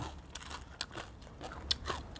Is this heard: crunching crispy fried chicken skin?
yes